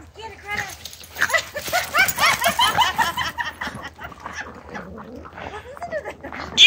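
A dog growls and snarls while tugging at something outdoors, rough rasping sounds in bursts amid excited urging from a person talking nearby.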